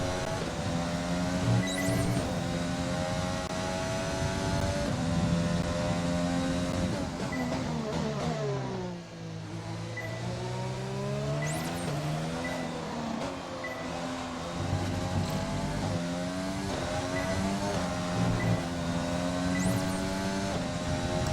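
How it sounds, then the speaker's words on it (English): A Formula 1 car engine in the racing game F1 2020 screams loud and close, rising and falling through gear shifts, briefly dipping low before revving back up to a high whine. "Let's listen to our engine."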